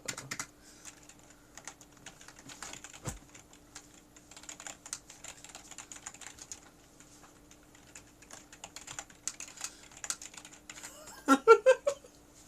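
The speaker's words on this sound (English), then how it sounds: "I was just typing out" Clicking keystrokes on a computer keyboard, irregular and fairly faint, continue in bursts over a quiet steady hum, with a brief louder flurry of other sounds near the end.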